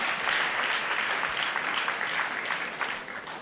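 A school congregation at a thanksgiving Mass applauds for the chaplain, with dense, steady clapping from many hands filling the hall at even strength throughout and no speech over it.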